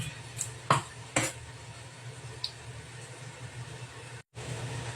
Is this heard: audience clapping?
no